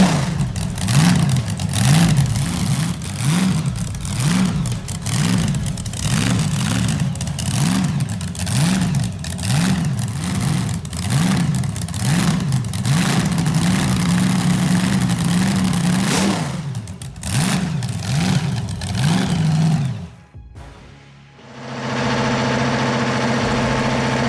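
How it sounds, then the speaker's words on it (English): A supercharged vintage 1950s drag racing engine with a Roots-style blower and mechanical fuel injection idles loud and close, throbbing in a steady lumpy rhythm with occasional blips, then cuts away to a lower, steadier hum near the end. "armed with a Root-style supercharger and raw mechanical fuel injection"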